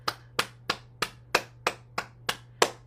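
Hands clap nine times in an even, steady rhythm during a bouncing exercise session. Each clap is sharp, close and distinct, with no talking.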